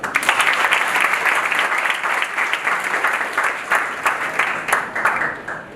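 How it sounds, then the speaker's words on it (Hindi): An audience of future entrepreneurs at NMIMS claps in a sustained, steady round of applause that stays loud throughout before thinning slightly at the end. "बहुत अच्छा क्वेश्चन भाई, ताली बजाओ।"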